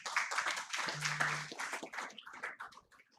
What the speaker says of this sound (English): Can we have huge round of applause for him